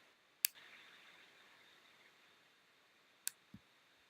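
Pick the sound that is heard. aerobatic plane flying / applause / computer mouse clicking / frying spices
computer mouse clicking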